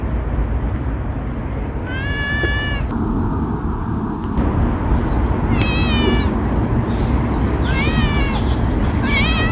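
A cat gives several short, distinct meows spaced a few seconds apart, moderately close, over steady outdoor background noise near flowers and a metal fence.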